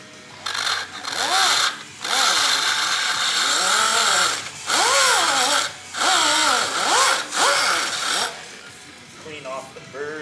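Bursts of a power tool spinning a disc to clean burrs from a drilled hole while fabricating a steering stabilizer mount for a Suzuki Samurai, whining in several rising and falling pulses with short pauses between.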